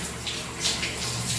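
Water pours and splashes steadily while a dog is bathed, a continuous close wash of running water with small surges and no talking.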